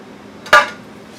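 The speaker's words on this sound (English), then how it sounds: "all you do is you stir this up" A utensil clinks once against a bowl holding a hashbrown casserole mixture, a single close, sharp knock standing alone against a quiet background.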